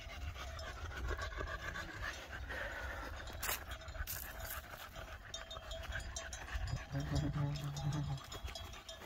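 A sheepdog pants rapidly and steadily close by while moving a flock of sheep to a pen, the breathing continuous throughout with people talking over it and faint outdoor noise behind.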